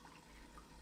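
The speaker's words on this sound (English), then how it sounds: "I'm gonna add the water" Water poured into a hot pan of orc-style gyoza over a campfire, a steady close hiss of liquid that runs unbroken through the short moment.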